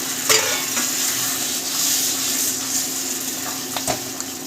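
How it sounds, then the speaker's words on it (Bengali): Hot water poured into jackfruit curry with potatoes in a pan, a steady broad hiss and sizzle with faint stirring and a few clinks, close and continuous throughout. "আমরা এঁচড়ে গরম জল দেবো"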